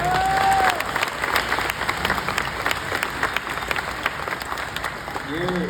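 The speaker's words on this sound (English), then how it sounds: "round of applause for the great John Wesley Shipp" A convention panel audience applauds with sustained, fairly loud clapping from a large crowd, a few scattered cheers and voices mixed through it.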